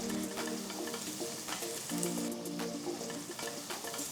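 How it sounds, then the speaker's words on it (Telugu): Finely chopped onions sizzle loudly in hot oil with cardamom, star anise and a bay leaf, with steady crackling and light stirring scrapes throughout. "ఇప్పుడు చిన్నగా తరిగిన 3 ఉల్లిపాయలు కూడా వేసి వేయించాలి."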